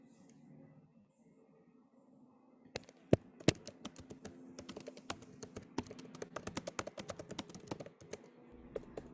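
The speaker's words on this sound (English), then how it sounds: "we can hear you typing" Rapid typing on a computer keyboard during an online workshop call, a close, continuous stream of sharp key clicks that starts a few seconds in and keeps going.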